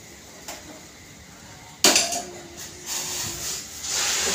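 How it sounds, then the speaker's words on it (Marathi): Boiling water poured into a pot of vegetable pulao with rice, a hissing, rushing pour that starts abruptly after a light clink and carries on steadily, close by, with no talking. "तर मी हे उकळतं पाणी ह्याच्यात ओतते"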